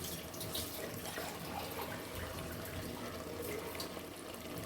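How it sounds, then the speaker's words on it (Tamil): Water being poured into a cooking pot for chicken biryani, a steady close splashing trickle running continuously without pause, fairly quiet. "இப்போ வந்து நம்ம தண்ணி அளவு ஊற்றிக்கலாம்."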